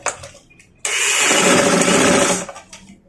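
A sewing machine runs while stitching a frock, with one loud, continuous mechanical whirr lasting about a second and a half. Quiet gaps come before and after it.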